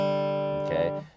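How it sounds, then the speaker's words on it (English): A short bluegrass G run played on acoustic guitar using a thumb pick and finger pick: a quick cluster of ringing notes, close and alone, fading as the last tone decays. "This is what the G run sounds like that he popularized."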